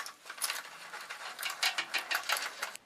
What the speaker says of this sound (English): you need to remove this upper bolt here as well with your Allen wrench